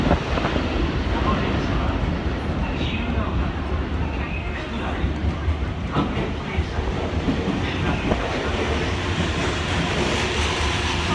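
Train moving through a station in Tokyo, Japan, a loud continuous rumble and rattle of wheels on rails filling the whole stretch, with voices faintly beneath it.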